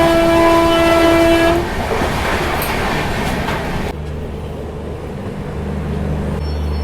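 A Saurashtra Mail passenger train between Rajkot and Dwarka sounds a loud, steady horn for about a second and a half, then gives way to rumbling wheels and rail noise that drops to a lower drone.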